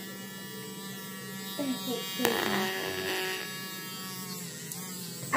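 An electric toothbrush buzzes steadily close by indoors, with a person talking briefly over it.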